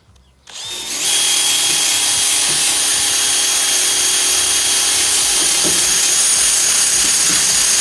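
A knotwheel on a power tool grinds the roof of a 1966 Chevy C10 truck cab down to bare metal, spinning up after a brief quiet start into a loud, continuous, steady abrasive whine close by.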